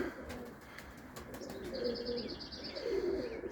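Pigeons released from their loft on a cold morning with white rooftops coo softly at a moderate distance, with scattered wing flaps and light clicks against a quiet outdoor background.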